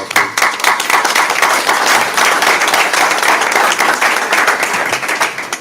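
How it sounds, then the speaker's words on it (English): Sustained applause fills a school district event right after a ROTC color guard presentation, dense and loud clapping from a crowd, steady from start to finish with no talking. "give me a round of applause, please"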